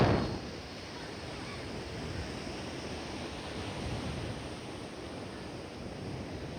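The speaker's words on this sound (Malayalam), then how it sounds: "ഇത് നല്ല പൊക്കത്തിലടിക്കുന്നുണ്ട് തിരമാല, നല്ല ഭയങ്കര തിരമാലകൾ അടിക്കുന്നുണ്ട്." Big ocean waves crash on a beach, heard as a steady, broad roaring wash of surf with a gusty, windy edge, mid-distance and unbroken, with no voices.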